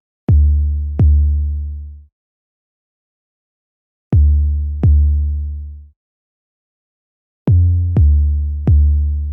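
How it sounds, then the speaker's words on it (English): Deep sub bass synth built from Logic's drum synth, playing short booming kick-like notes in pairs, each with a sharp attack and decaying tail, three pairs separated by silence, loud and alone. "Next up, I've got the sub bass synth."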